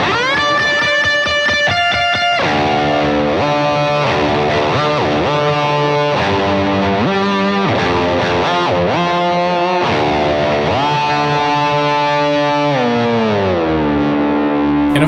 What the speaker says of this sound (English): we're gonna essentially create something kind of like a whammy pedal